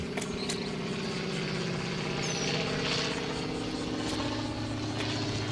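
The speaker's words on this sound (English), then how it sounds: "got a biplane from World War I" A World War I biplane drones overhead, its propeller engine a steady, low, pulsing buzz that holds at an even level throughout, mixed with faint motorcycle-like idling and no talk.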